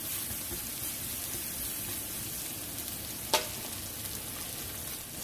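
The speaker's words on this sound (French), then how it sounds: "Je vais les faire revenir quelques minutes dans ce sucre." Rinsed, dried mushrooms sauté in sugar in a pan for a chicken dish with creamy mustard sauce, giving a steady, even sizzle close by with one brief clack near the end and no voices.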